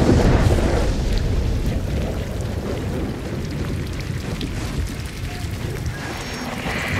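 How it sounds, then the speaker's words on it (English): Rain falling in the video game Gears of War 4, a steady broadband hiss with rumbling low texture, fairly loud and continuous with no talking. "And now it's raining."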